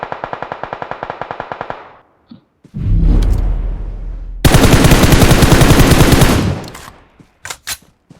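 Gunfire in PUBG Mobile: a rapid burst of automatic shots, heavy rumbling bursts and dense sustained firing, then a few scattered single shots, loud and close.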